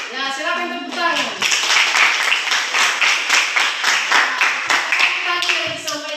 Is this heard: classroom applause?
yes